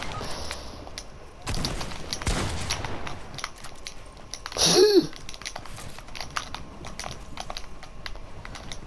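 Gunfire in Fortnite crackles in rapid bursts among clicks and game effects, with a louder swooshing sound around the middle and quieter scattered shots afterward.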